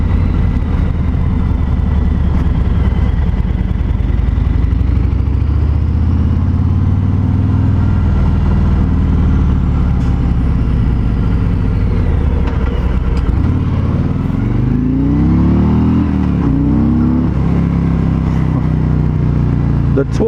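A 2020 Harley-Davidson Road King Special motorcycle rumbles continuously while being ridden, with a loud steady engine drone, wind rush and some rising revs, and a rider occasionally talking over it.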